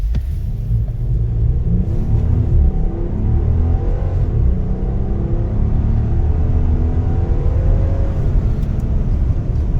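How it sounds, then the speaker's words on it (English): A Jeep Grand Wagoneer three-row SUV with the Hurricane engine accelerates hard, heard from inside as a loud steady rumble with rising engine tones and road roar, no voices. "Pretty quick for a 3-row SUV. That Hurricane engine is quick."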